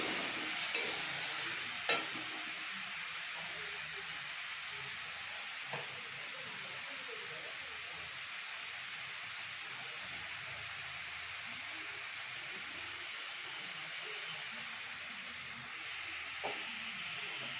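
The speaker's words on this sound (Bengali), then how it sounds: "এবার পেঁয়াজটা একটু হালকা ব্রাউন করে ভেজে নেব।" Chopped onion sizzles steadily in a pan for dhokar dalna, a continuous broadband frying hiss with a few brief clicks of stirring, no voices.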